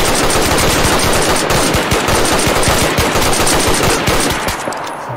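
Loud, sustained automatic gunfire from the DayZ video game pours out in a dense, rapid stream of shots with no pause, thinning slightly only at the very end.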